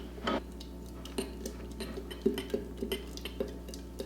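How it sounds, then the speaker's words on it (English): Flour and warm water being stirred together in a bowl for a sourdough starter, quiet scattered clinks and taps of a utensil against the bowl over a low steady hum, close and faint. "now I'm just going to mix this together."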